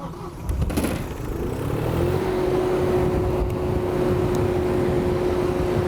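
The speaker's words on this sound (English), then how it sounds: "Go ahead, start up our engine." A vehicle engine starts up and settles into a steady, loud idle hum with a constant drone, after a short cranking burst, with no talking.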